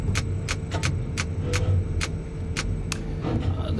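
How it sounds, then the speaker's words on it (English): A tower crane hoist clicks at a construction site, sharp clicks at a steady rhythm about twice per second over a low rumbling background. "what the heck is that clicking sound? If you look at my right hand, that is what the clicking sound is. It's from the hoist."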